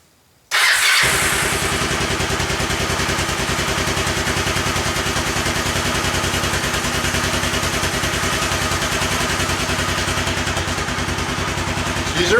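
A Kawasaki Lakota 300 ATV engine fresh from a top end rebuild catches after a moment of silence and settles into a loud, steady, close idle with a rapid even chugging pulse that continues throughout, no voices.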